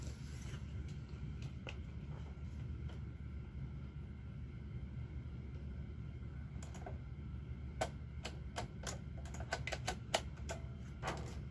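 Punch card being fed into the reader of a Brother KR 260 knitting machine, a series of faint mechanical clicks and taps, denser toward the end, over a steady low hum.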